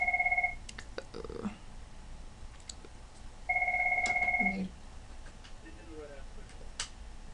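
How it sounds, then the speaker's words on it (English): An incoming call rings on a phone in two electronic bursts a few seconds apart, each a short, bright trilling tone, set against a quiet room with faint ticking and small handling noises. "sorry, I'm getting a phone call."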